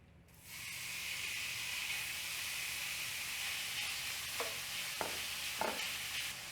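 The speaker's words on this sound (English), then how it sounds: "you hear that bacon sizzling?" Steady, close sizzling and hissing of bacon frying in a hot pan, with a few brief scrapes or pops near the end.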